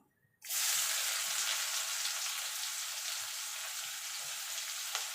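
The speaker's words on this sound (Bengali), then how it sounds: "পেঁয়াজটা একটু সোনালি কালার করে ভেজে নেবো" Onion drops into hot oil after a near-silent moment, bursting into a loud, dense sizzle that holds steady and close for the rest of the clip while it fries, with no talking.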